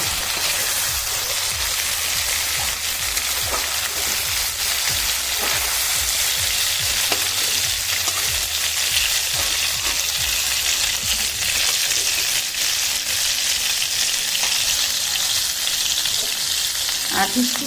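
Whole spices, cardamom, cinnamon, cloves, panch phoron, bay leaf, chilli and sugar, frying in hot oil for prawn malai curry, giving a dense continuous close sizzle and crackle with occasional stirring scrapes throughout.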